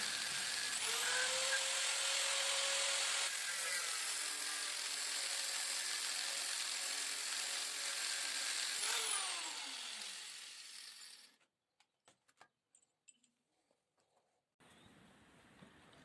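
A power tool cuts through a threaded steel rod for staircase construction with a loud, steady high-pitched whine lasting about ten seconds, then winds down, followed by a few sharp clicks and clatter of handling.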